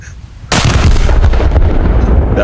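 A battleship fires a broadside in a naval battle video game, a sudden loud booming blast that rolls into a dense, rumbling, sustained roar of gunfire, close and heavy after a quieter lead-in.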